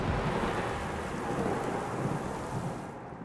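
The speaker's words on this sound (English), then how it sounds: "Heavy rain and flooding is now a more regular occurrence." Heavy rain pouring down with low thunder rumbling through it, a dense, loud, steady wash of noise with no voices.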